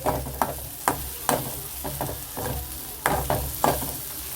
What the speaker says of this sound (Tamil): இந்த மாதிரி சென்டரில் ஊற்றோன்னே எண்ணெய் நல்லா கொதிக்குது பாருங்கள்